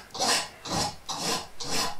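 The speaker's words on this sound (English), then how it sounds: "So I just take away the burrs from this corner." Four steady rasping strokes of a hand file or deburring tool working a metal corner by hand, evenly spaced, close and moderately loud, with no talk.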